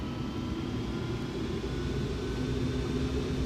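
Steady, dense engine drone of a Boeing YC-14 jet inside the X-Plane flight simulator, a continuous low roar with a faint whine above it and no pauses.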